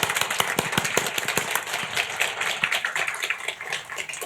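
A church congregation in Jakarta claps after two songs, a loose scatter of sharp individual claps that thickens into a steady round, fairly close and with almost no talking.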